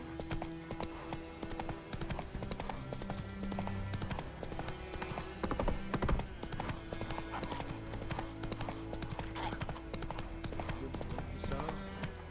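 Horse hooves clopping in The Witcher 3, as the horse Roach walks along a cliff edge: a steady, continuous clip-clop over a busy bed of ambient game sound and music.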